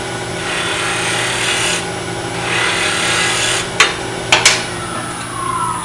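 A wood lathe spins a miniature vase with a steady, close hum and a faint rasping rub of a tool on wood, with a few sharp knocks near the end.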